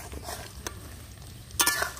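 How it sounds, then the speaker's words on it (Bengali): Bitter gourd pakoras fry in oil with a soft, steady sizzle as they are stirred and turned, with a few brief scraping clinks from the utensil. "দেখি একটু পকোড়াগুলো উল্টিয়ে দিই"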